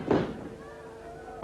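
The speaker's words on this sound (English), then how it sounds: "Down heavily to canvas." A wrestler slams heavily onto the ring canvas in a televised championship bout, giving one sharp, booming thud followed by a brief echoing crowd roar and a commentator speaking.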